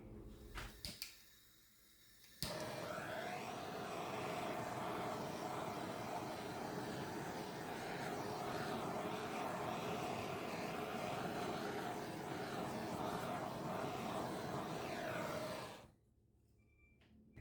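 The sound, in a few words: torch flame on poured paint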